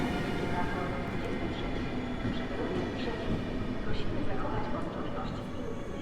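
An EU200 electric locomotive hauling an Intercity Panorama train at Warszawa Zachodnia station at night, a steady rumble with rail noise and faint tonal whine, moderately distant and continuous.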